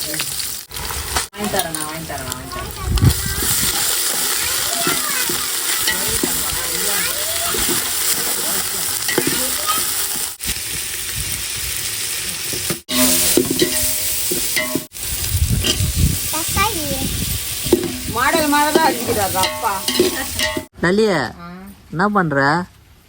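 Onions frying and being stirred in a pan for biryani, a steady close sizzle with scraping stirs running throughout, while people talk over it and a voice rises near the end.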